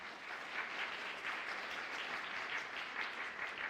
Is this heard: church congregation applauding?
yes